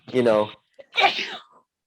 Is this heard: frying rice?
no